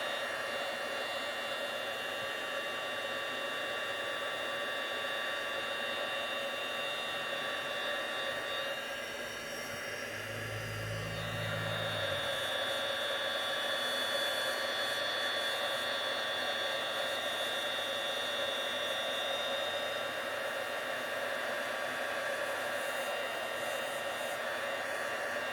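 A heat embossing tool blows hot air over embossing powder, a steady, even whooshing hum that runs throughout, dipping and shifting briefly midway as the tool moves.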